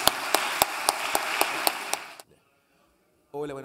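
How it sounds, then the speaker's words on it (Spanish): An audience at an international cultural management seminar applauds for about two seconds, with a few sharp individual claps standing out over a hiss of hands before it stops abruptly. A voice begins briefly after a pause. "Muchas gracias y un aplauso."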